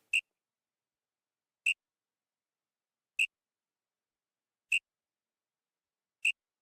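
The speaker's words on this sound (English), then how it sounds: "Then I added a whistle." A straightforward whistle sample from a beat, sounded as five short, sharp, high-pitched blips evenly spaced about a second and a half apart, clean and isolated against silence.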